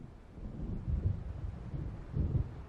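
Low rolling thunder of an approaching storm in Alan Wake Remastered, deep rumbles swelling twice over a dull windy background, distant and muffled with no voices.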